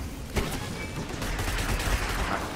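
Rapid gunfire from shooting in the Destiny video game, dense volleys of close, loud shots with a heavy low rumble running continuously across the moment.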